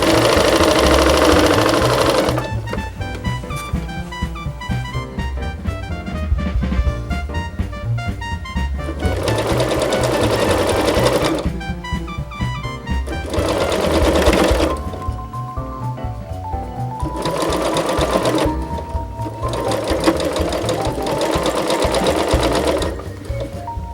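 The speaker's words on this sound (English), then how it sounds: "the whole thing has been sewn right sides to right sides" Sewing machine stitching the seam of a holiday apron: several short, fast bursts of whirring needle chatter, separated by pauses, sound close up over a constant background bed.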